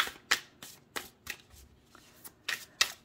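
Tarot cards are shuffled by hand in a series of crisp riffling bursts, about eight spaced flutters, close and fairly quiet with no talk.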